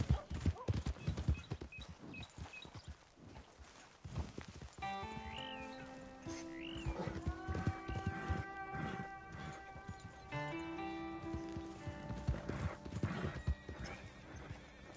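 Rhythmic clip-clop of hooves followed by a horse's high neighs in Red Dead Redemption 2, with some game sounds in the mix, fairly close and clear.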